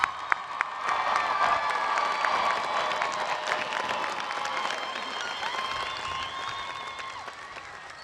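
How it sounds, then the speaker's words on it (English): A large crowd at the Allen High School class of 2022 graduation ceremony applauds and cheers the graduates, with steady, dense clapping and scattered whoops sustained throughout at an even level. "how about one more round of applause for our class of 2022 graduates?"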